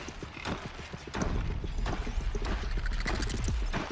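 In Horizon Zero Dawn, a robotic Strider horse mount walks with steady, close hoof clip-clops and mechanical clanks, a neigh-like whinny mixed in, alone without talk.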